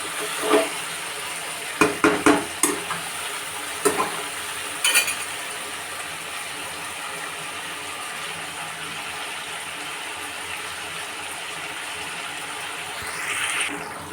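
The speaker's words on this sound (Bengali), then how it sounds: "দিয়ে মাংসটাকে আমি কষে নিচ্ছি" Meat sautéed dry in its own juices with tomato, chopped onion, green and dry chillies, bay leaf and whole garam masala, an even close sizzle with a cluster of sharp spatula clanks early on, then steady frying.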